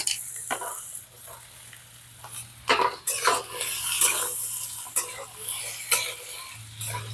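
Carrots, beans and chopped capsicum stir-fried in a pan for sabudana pulao: a light sizzle broken by repeated scraping and clinking of a spatula against the pan, close up and uneven in rhythm.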